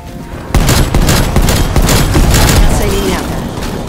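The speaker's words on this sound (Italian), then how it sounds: "Avanzo con il cannone portatile." A portable cannon fires in a first-person shooter video game, with loud, rapid, heavy bursts in a continuous barrage and a voice speaking briefly over the gunfire.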